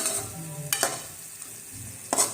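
Spices including cumin powder stirred together in a pan for chicken jalfrezi, with a low sizzle under a few sharp scrapes and clinks of the spoon against the pan.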